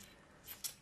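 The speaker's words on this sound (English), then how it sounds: "Cut these black extenders off." Black plastic camera extenders are snipped off a robot-hand build with a cutting tool: two quick, faint snips close together, the second one sharper, over quiet room tone.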